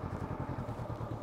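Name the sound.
motorcycle riding a slalom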